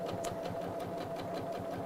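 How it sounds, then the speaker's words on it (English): A sewing machine stitches fabric for a simple tote bag, running in a quiet, steady, rhythmic whir of evenly repeating needle strokes, with no voices. "Okay, so around we go."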